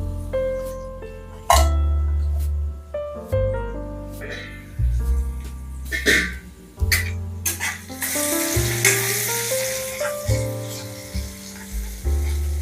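Tomatoes frying and sizzling in a pan for an egg masala curry, a steady close crackle broken by stirring, clinks and bursts of sizzle.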